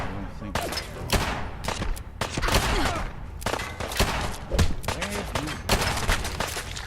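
Rapid bursts of gunfire in a Fallout 4 battle, among them a .44 caliber revolver, crack out in irregular clusters of sharp shots at moderate loudness, with speech mixed between them.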